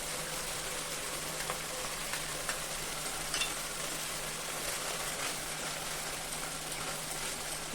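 Yogurt-mixed masala frying in a pan for shahi paneer, a faint, even, hissing sizzle that holds steady throughout with only tiny scattered crackles and no speech.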